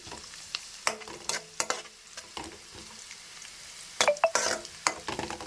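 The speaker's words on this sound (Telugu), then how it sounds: "ఇప్పుడు మనము ఆనియన్స్ కూడా వేగిపోతున్నాయి కదండి" Onions frying in a pan for a leafy-greens fry, with a steady sizzle under sharp scrapes and clinks of a spoon stirring against the metal, louder around the middle and end.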